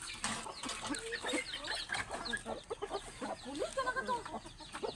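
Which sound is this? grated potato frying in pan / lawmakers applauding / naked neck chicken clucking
naked neck chicken clucking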